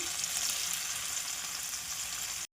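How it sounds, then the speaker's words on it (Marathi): Marinated paneer frying in hot oil gives a steady, dense sizzle that holds evenly for over two seconds and then cuts off abruptly, with no voices. "मॅरिनेट केलेलं पनीर ह्यात फ्राय करून घ्यायचं आहे"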